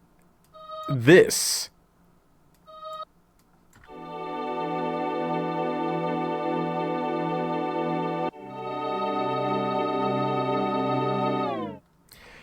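A synth lead from an FL Studio song plays as sustained, harmonically rich notes, first one long tone and then a slightly lower one, clean and prominent. A short burst of speech comes just before.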